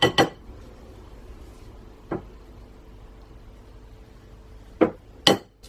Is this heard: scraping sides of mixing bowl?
yes